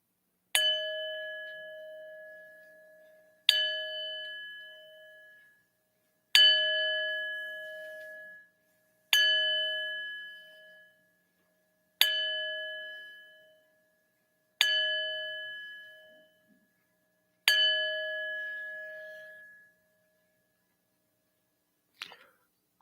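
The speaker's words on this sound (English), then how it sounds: "I ring our bells 7 times in honor of our Unitarian Universalist 7" A church bell rings seven times at a Unitarian Universalist Sunday service, slow evenly spaced clear metallic strikes about three seconds apart, each ringing out and fading before the next, with a faint final tap after the last.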